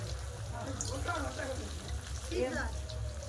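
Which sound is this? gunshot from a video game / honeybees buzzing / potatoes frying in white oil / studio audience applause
potatoes frying in white oil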